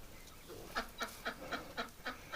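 A duck quacks in a steady series of about seven evenly spaced calls, fairly close and alone without talk.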